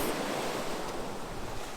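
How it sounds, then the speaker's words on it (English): Strong, cold wind on Evia island, Greece, roars continuously with a broad, rushing hiss, steady and fairly loud throughout, with no voices. "it can be so windy"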